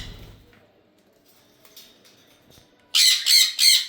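A pet parrot of the kind kept for sale alongside cockatiels, sun conures and budgerigars lets out three loud, harsh squawks in quick succession near the end, after a quiet stretch with faint background noise.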